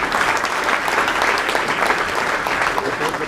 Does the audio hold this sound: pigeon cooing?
no